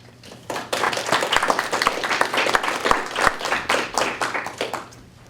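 An audience at a school board of education candidate forum bursts into applause, many hands clapping densely for about four seconds before it fades out.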